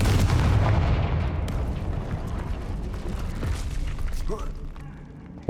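The Confringo fire spell in Hogwarts Legacy goes off as a loud, deep explosive boom right at the start, then rumbles and fades away, while a voice talks.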